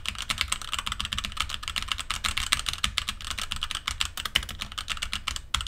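Fast clattering keystrokes on a computer keyboard, including WASD gaming keys, continuous and close, a busy stream of clicks with no talking, recorded through a HyperX QuadCast USB microphone.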